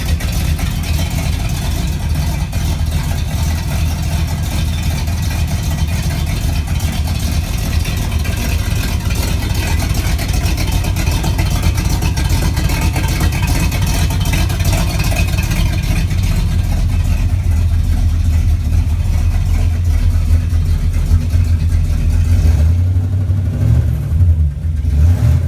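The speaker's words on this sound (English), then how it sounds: "Has a killer exhaust system on it." A cold 1965 International Scout 800 engine idles steadily through an aftermarket exhaust, producing a loud, continuous low rumble that holds even throughout, with no talking.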